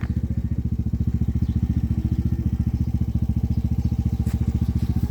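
A motorcycle runs on a farm in New Zealand in winter, its engine chugging in a fast, even pulse close by, steady and loud throughout.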